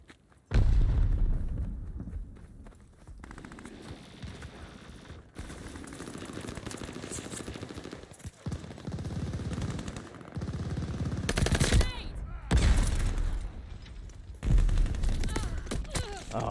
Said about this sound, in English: Dude, I was firing before he even moved.